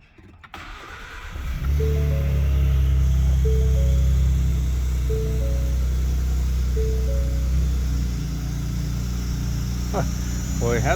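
A 2015 Ford F150 with its catalytic converter deleted cranks and starts, settling into a loud, steady idle with a low exhaust drone, followed by a few brief whistling sounds.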